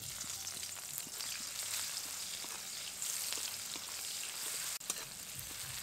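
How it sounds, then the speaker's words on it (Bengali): Chopped onion sizzles and crackles steadily in hot oil with dried red chillies, cardamom, cinnamon and cumin seeds, a close, even frying hiss with no talk. "পেঁয়াজটা একটু গাঢ় বাদামি করে ভেজে নেব।"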